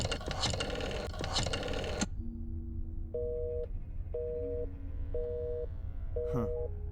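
Telephone busy signal of repeated short beeps, about four evenly spaced pulses, heard after a burst of noisy clatter at the start.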